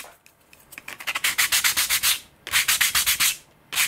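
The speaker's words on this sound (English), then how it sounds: "Again, I'm sanding" Sandpaper is rubbed back and forth along a bevelled wooden edge while installing a rudder/elevator servo in a CN-Models Sensor F5J model glider. The strokes are close and loud, coming in two quick bursts of rapid scratching with a brief pause between.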